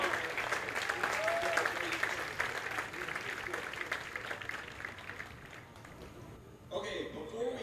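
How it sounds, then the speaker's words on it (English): Audience applause fills an outdoor drum corps competition, a broad clapping wash that slowly fades and then swells again, with a voice speaking over it. "Round of applause"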